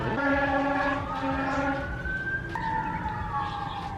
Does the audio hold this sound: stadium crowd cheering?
no